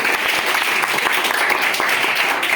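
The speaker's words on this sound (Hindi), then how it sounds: "एक बार तालियां बजा दो इसके लिए एक बार।" Children clapping together in a classroom, a loud, dense burst of applause that stays even and continuous from start to finish with no talk over it.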